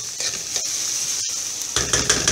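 Onions sauté in a big pan for Pav Bhaji, a steady close sizzle with scraping stirs and spoon clinks against the pan, busier toward the end.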